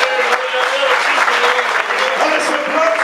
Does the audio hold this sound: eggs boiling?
no